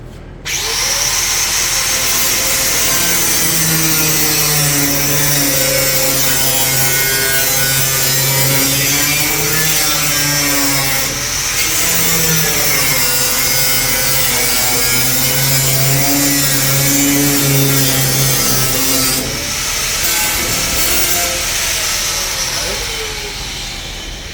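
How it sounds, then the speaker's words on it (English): A power saw cuts a flange off a 1955 Pontiac rear bumper, a loud, steady rasping whine whose pitch wavers and dips over about twenty seconds, close up, with brief pauses. "I'm going to cut off this flange."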